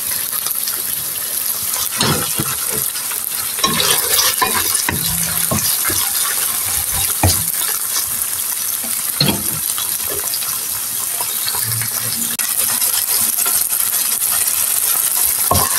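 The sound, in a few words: ginger frying and sizzling in a pan with onion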